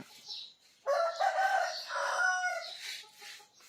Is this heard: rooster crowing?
yes